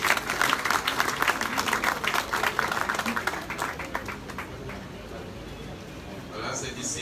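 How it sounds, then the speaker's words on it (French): An audience applauds the ministerial cabinet at a government installation ceremony; dense clapping fills the first few seconds, then thins and fades to a quieter murmur. "je demande à l'assistance d'applaudir l'ensemble du cabinet ministériel"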